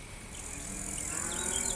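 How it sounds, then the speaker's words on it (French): Cows moo as a theatre sound effect, a drawn-out lowing that swells slightly in loudness over a faint background buzz. "Il y a même des vaches là-bas, avec un chalet."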